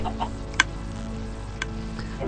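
Minecraft chickens in a game chicken coop give a couple of short clucks over a steady low hum, a sharp cluck near the middle and a fainter one later, with no talk.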